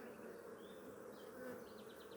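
Honeybees at a stacked beehive with a brood frame, worker bees busy on the upper combs, make a faint, steady close-up buzzing hum with a few louder passes of individual bees, and no talk.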